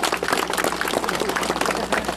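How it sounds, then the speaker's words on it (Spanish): Dense, steady applause from an audience at a signing ceremony, many hands clapping together at close range for a couple of seconds, with faint talk beneath. "¡Fuerte las palmas!"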